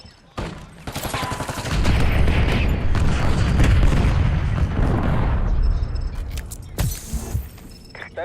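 A frag grenade detonates in a military video game, a loud booming blast that rolls into several seconds of dense rumbling debris and scattered gunfire, then fades, with a smaller crack near the end.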